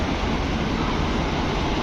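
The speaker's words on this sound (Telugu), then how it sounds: "ఈరోజు మనల్ని పుల్ చేయబోయే లోకో ఇదే వ్యాప్ 4 ఈ రోడ్ లోకోమోటివ్." A WAP-4 electric locomotive stands at the head of the Chennai Egmore–Rameswaram Express in a station, giving a loud, steady broadband rumble and hum with no pauses and no voices.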